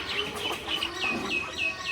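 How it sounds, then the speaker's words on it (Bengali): A hen that has recently hatched chicks clucks in a steady series of short, close calls, with higher chirps from small birds mixed in and no talking. "এই যে এই মুরগিটা এটারও বেবি হয়েছে অনেকগুলো"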